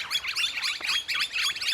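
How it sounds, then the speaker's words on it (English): Several birds chirp and tweet continuously in a busy, lively chorus, close and fairly loud, with repeated rising and falling calls and no talking. "Bit of carry on from those birds."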